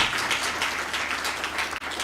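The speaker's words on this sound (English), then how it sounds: "I'd also like us to give a round of applause to the moderator of the panel" An audience at a moot court competition claps for a panel moderator, giving a dense, steady round of applause that fills the room and briefly dips near the end.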